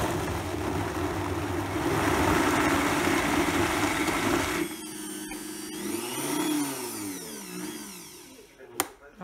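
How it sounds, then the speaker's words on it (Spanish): Blender motor churning chestnut cream without added sugar, a steady loud whirring drone for several seconds that cuts off abruptly, followed by softer scraping and a sharp knock near the end. "esto lo vamos a pasar a licuar hasta que se forme una cremita"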